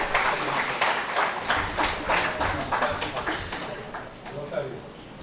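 Dense, steady audience applause fills a hall at a horticulture conclave valedictory award ceremony, sustained and moderately loud before gradually easing off.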